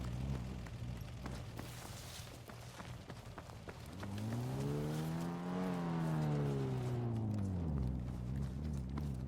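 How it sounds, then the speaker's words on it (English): A loud car engine in a video game rises in pitch, holds a steady drone, then falls away as the car passes close, heard alone without talk. "car's so fucking loud."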